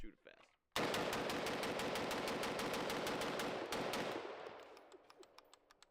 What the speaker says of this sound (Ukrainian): А тут ствол 20 сантиметрів, тому просто постріляємо.